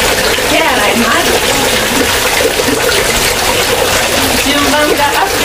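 Spring water at Oshino Hakkai runs and splashes steadily as hands are washed in it, a loud, close, continuous gush, with voices talking over it.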